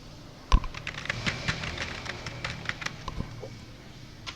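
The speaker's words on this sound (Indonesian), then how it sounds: "itu mengetik lagi ya" Computer keyboard typing while entering numbered list text in Microsoft Word: a quiet, irregular patter of close key taps over about four seconds, with one sharper keystroke near the start and no talking.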